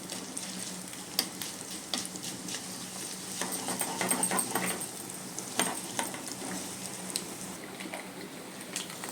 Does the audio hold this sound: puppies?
no